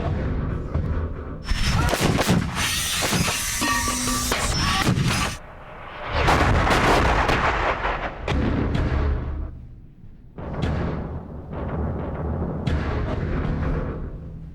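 Artillery fire with shells exploding near a bunker in a Korea 1951 battlefield setting: loud, heavy booms and rumbling blasts that come in several long bursts, with brief lulls between them.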